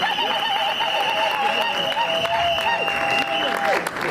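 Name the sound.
applause for the groom at a wedding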